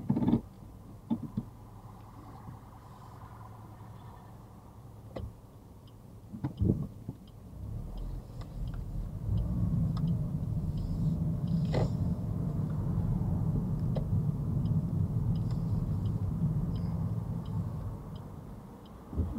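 A car out on a road hums with a steady low engine and tyre rumble that grows louder and holds after a quieter start, with a few clicks and knocks from inside the cabin.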